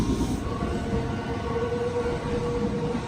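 A train rumbles steadily at Kuriyama Station in Japan, a loud, continuous low roar with faint tonal whines running throughout and no talking.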